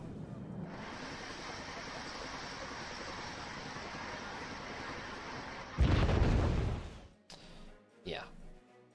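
A bomb strikes in Wargame: Red Dragon with a sudden heavy blast rising out of a steady engine drone, followed by a couple of smaller trailing bursts as the rumble fades.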